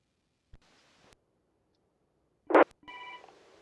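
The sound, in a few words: telephone ringing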